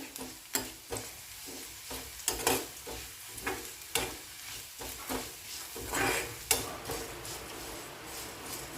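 Masala of coriander seeds and cumin fried in a pan for Kadaknath chicken curry, a low sizzle under repeated close scrapes and knocks of a spatula stirring the spices at an uneven rhythm, no talking.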